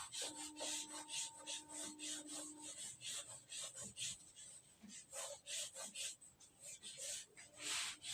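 A duster rubbing writing off a classroom board in rapid, repeated scrubbing strokes, close and fairly quiet, with no talking.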